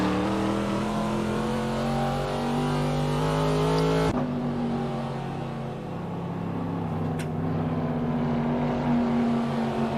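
Race cars in a racing game roar past with steady, loud engine drones, one pitch dropping sharply midway as a car passes before others keep humming on, near and continuous.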